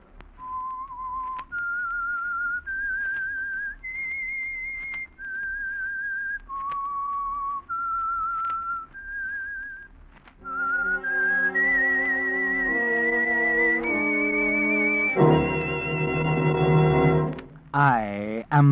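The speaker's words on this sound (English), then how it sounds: "That whistle is your signal for the Signal Oil Program" A lone whistler performs the eerie signature tune of The Whistler radio program, a slow sequence of sustained, clear pitched notes that steps up and down, then a fuller orchestral passage swells in beneath the final phrases.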